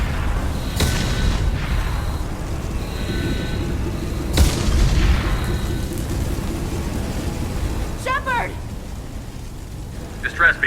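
Deep booming blasts rock a starship under attack in the Mass Effect game, with a rumbling rain-like roar throughout, a sharp crack partway through and faint electronic chirps near the end.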